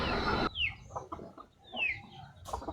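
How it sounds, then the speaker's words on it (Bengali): Aseel chickens peck rice from a hand, giving soft, scattered clucks and a couple of short rising calls over light pecking and rustling nearby, with a brief burst of noise at the start and no speech. "এই দেখুন হাতে কত সুন্দর খাচ্ছে মুরগিগুলো"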